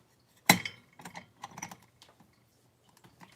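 Plastic clicks and taps as a plate is popped out and swapped on a Dash multi-plate mini waffle maker: one sharp snap followed by several lighter knocks and rattles, close and alone with no talk.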